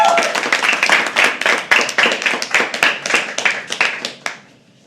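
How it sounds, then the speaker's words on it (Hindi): An audience at a stand-up poetry show claps together in a steady burst of applause that carries on for several seconds, then fades out quickly. "जोरदार तालियां पहले स्वस्तिकास के लिए, हमारे होस्ट के लिए"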